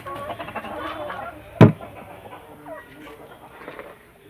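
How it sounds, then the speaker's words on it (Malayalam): Kadaknath black chickens (karinkozhi) clucking close by, soft scattered clucks with one sharp louder squawk partway through. "ഏകദേശം 8ഓളം കരിങ്കോഴികളാണ് ഇവിടെ ഉള്ളത്"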